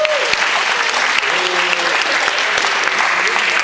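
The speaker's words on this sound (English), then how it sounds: "Give a round of applause." An audience at a high school spoken-word event in Alexandria, Virginia breaks into a round of applause, dense steady clapping from many people, with a voice briefly audible over it.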